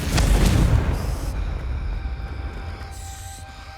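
A Confringo spell bursts in Hogwarts Legacy, a loud booming explosion with a rumbling low-end blast that peaks early and then settles into a lingering, fading roar with faint tonal hums.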